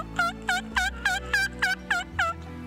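A hunter works a diaphragm call to imitate wild turkey calls, making eight rapid, evenly spaced yelps in a close, clear and loud series, alone without talk.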